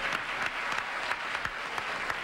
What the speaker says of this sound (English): It's such a gentle little applause he gives us.